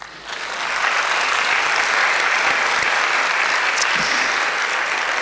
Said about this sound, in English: you should give yourselves an applause